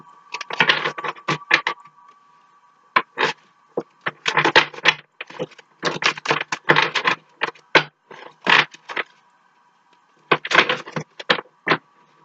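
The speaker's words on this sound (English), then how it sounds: "now we're going to shuffle" Playing cards being shuffled in quick riffling bursts, repeated several times with short pauses between, close and crisp.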